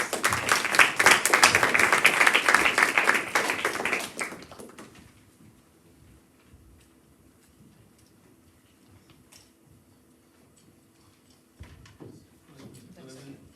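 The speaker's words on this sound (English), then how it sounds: "So clap for Noah, please." A school audience claps for its senior school captain with loud, dense applause for about four seconds. It then dies away quickly into a quiet room with a few faint knocks and shuffles.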